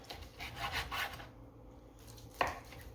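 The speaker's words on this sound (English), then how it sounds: "What we want to do now is just kind of cube it up into 3/4 to 1 inch squares." A knife cutting a smoked chuck roast into bite-size cubes on a board, several close, distinct chopping strokes in quick succession, then a pause and one sharper single cut near the end.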